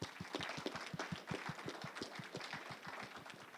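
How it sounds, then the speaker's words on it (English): An audience claps at the close of a council by-election results event. The applause is a brisk, fairly even patter of many hands sustained throughout, medium-near and without speech. "Let's give ourselves a round of applause."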